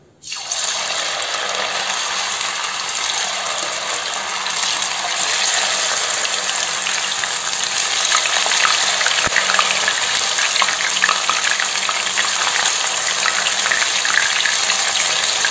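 Loud, continuous sizzling and crackling of mushrooms deep frying in hot oil, starting abruptly and bubbling steadily throughout.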